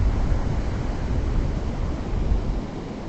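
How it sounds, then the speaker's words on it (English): Waves from the Atlantic Ocean break at Smith Point beach on Long Island, New York, on a cold day with a moderate southeast swell. The surf is a steady, broad roar, with some wind buffeting the microphone. "the waves are out of the southeast, moderate ocean today"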